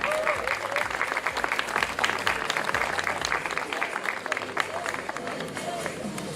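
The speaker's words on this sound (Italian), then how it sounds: "Un applauso." A crowd applauds at the finale of a beauty pageant, with dense sustained clapping, some crowd noise and faint voices underneath, steady throughout.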